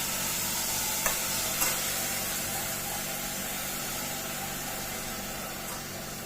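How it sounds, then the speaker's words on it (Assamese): Dal and mixed vegetables are stirred in a sizzling pan for a vegetarian sabji. A steady frying hiss runs throughout, broken by a couple of sharp spoon knocks early on, with no talking. "এয়া গোটেইখিনি ভালদৰে লৰাই দিলোঁ। লৰাই ইয়াতে দিলোঁ দালিখিনি।"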